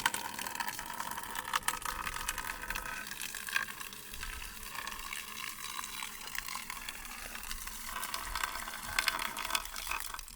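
Water running steadily from an outdoor hot water shower at a cabin, a continuous hiss of spray and splashing that stays even throughout with no talking.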